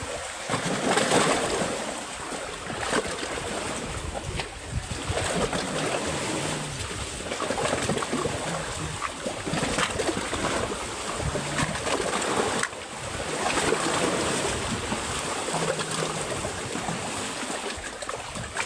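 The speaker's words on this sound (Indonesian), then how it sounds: "Keras ombaknya bang, iya keras sekali mbak." Heavy sea waves churn and slosh around a small fishing boat offshore, a dense continuous wash of water and wind that surges and eases over many seconds with no talk.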